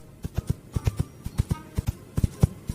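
Stones knocked together imitate a galloping horse for a film effect, producing a close, loud run of sharp clacking hits in a quick, uneven hoofbeat rhythm with no talk.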